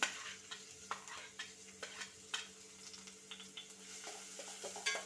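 Sliced onions fry in hot oil with a faint, quiet sizzle, punctuated by a regular series of light spoon taps and scrapes against the pan as they are stirred.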